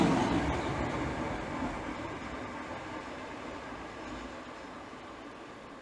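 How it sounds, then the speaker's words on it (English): A broadband rush of an Edinburgh to London express passing through Hitchin on the East Coast Main Line, loudest at the start and easing to a steady roar as the carriages go by, with no voices. "And the Edinburgh to London service is now passing"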